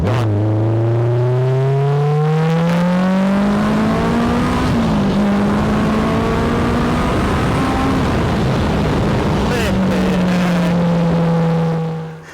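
A Spartan sports car engine, 644bhp per tonne, revs hard and climbs in pitch through the gears, loud and close, then fades away at the end.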